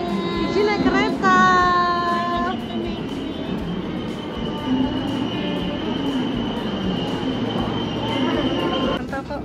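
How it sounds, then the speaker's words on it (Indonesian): A KRL commuter train passes close by with a loud rumble, opening with a rising electric motor whine and a high sustained tone, then a steady rolling roar of wheels on track. "keretanya panjang ya"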